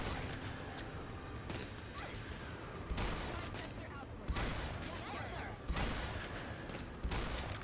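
Rapid gunfire at turrets in Earth Defense Force 5 crackles in repeated bursts, fairly faint and dense, with occasional louder volleys and people talking over it.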